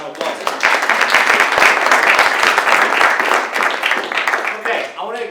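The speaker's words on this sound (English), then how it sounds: "Round of applause." An audience applauds at a community transportation coalition meeting, with dense, steady clapping from a crowd held at an even loudness for several seconds.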